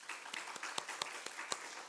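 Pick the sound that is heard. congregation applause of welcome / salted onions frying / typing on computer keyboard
congregation applause of welcome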